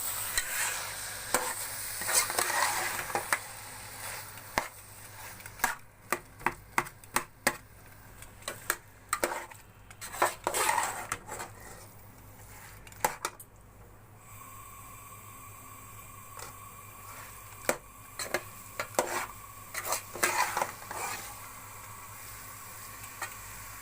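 Pumpkin halwa with coconut is stirred and roasted in a pan, giving intermittent scraping clicks and taps over a faint low hum, with quieter stretches between bursts of stirring and no speech.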